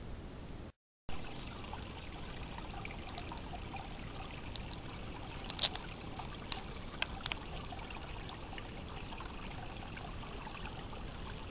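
Creek water flows and trickles steadily, a constant close rushing wash broken by a brief dropout near the start and a few sharp clicks and splashes in the middle.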